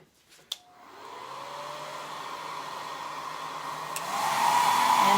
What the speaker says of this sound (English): we are going to just take my hair dryer here.